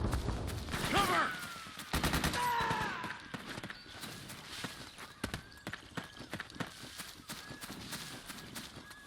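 Bursts of gunfire in Metal Gear Solid 4 crackle in quick rapid volleys, then thin out into scattered single shots and thuds, fairly quiet overall.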